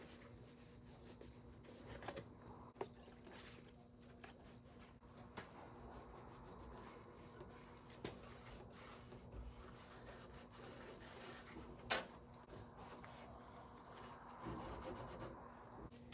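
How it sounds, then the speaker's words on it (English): Cloth soaked in rubbing alcohol rubbed along the window channel of a 1988-92 Ford Ranger pickup, a faint, intermittent scrubbing and wiping with small knocks and scrapes. "I'll take it and rub it along the inside there as well."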